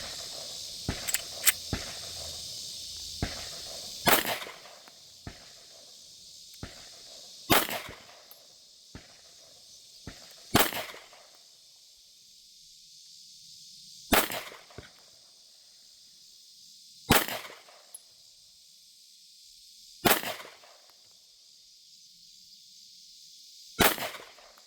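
Factory-ported CZ P10C pistol fired at an outdoor range, about ten sharp, loud shots spaced a few seconds apart, each cracking out alone and trailing off in a short echo, with faint quieter clicks between.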